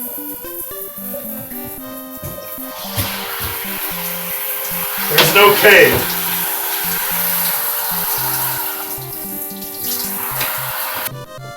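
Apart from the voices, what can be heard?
waterfall in the NES video game Crystalis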